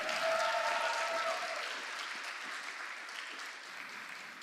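Conference audience applauding in a hall, a dense steady wash of many hands clapping that starts full and slowly thins toward the end, with no talk over it.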